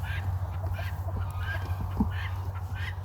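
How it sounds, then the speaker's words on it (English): Geese honk on a farm with hay and guinea fowl nearby, a few repeated calls at a moderate distance over a low steady hum. "That just sounds like the geese are over there"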